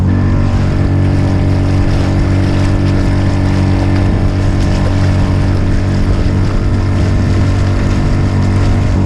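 A small Yamaha outboard motor pushes a solo skiff, a loud, close, continuous engine drone with steady low rumble and water wash throughout, no voices.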